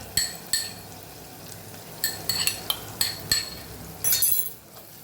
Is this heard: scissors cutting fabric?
no